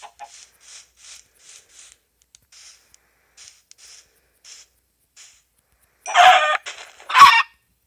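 Sparse soft clucks and chirps from video game chickens scattered over quiet, then two loud squawking fowl calls near the end, close and synthetic-sounding.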